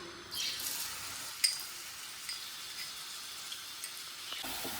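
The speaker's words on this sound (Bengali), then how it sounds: "এবার পেঁয়াজটা আমি খুব ভালো করে একটু ভেজে নেবো, ভালো করে বলতে একদম লাল লাল করে ভেজে নেবো আমি" Chopped onion frying in hot mustard oil, a soft steady hiss with faint crackles and an occasional stirring tap, quiet and close with no talking.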